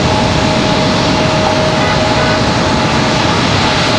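An Air France airliner at Raleigh Durham airport roars as a loud, steady broadband jet rush with a faint thin tone running through it.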